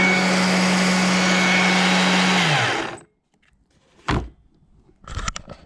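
A Stihl MSA120c battery chainsaw whirs loudly and steadily for about three seconds, its motor pitch then falling as it spins down to silence, followed by a couple of brief handling thuds.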